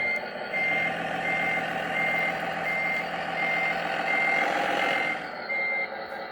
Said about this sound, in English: it also has a reverse beeper